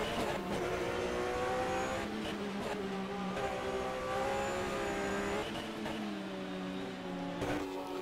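Porsche GT race car on a circuit, engine whining loud and close with rising and falling gear-change tones, the strained gearbox droning continuously.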